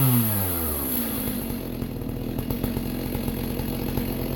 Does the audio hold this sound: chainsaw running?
yes